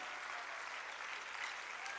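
Applause welcoming the Chief Minister at a World Disability Day event at Shakuntala University in Lucknow, a steady, dense wash of clapping from a large crowd, fairly distant, running without a break.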